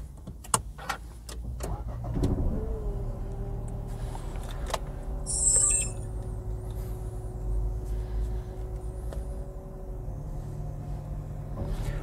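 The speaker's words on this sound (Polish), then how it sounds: "Zobaczymy, jak zachowuje się ten silnik w Dusterze na trasie." A Dacia Duster with a 1.0 TCe 100 hp turbo petrol engine starts up after a few interior clicks, then settles into a steady, low engine drone from inside the cabin on a ring road near Lublin. A brief electronic chime sounds midway.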